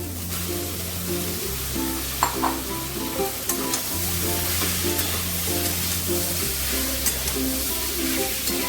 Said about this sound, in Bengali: এবার আমি পটলগুলো দিয়ে দেবো